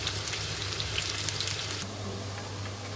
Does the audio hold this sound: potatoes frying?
yes